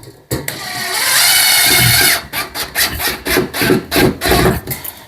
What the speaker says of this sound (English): And I'll get all my screws in just provisionally.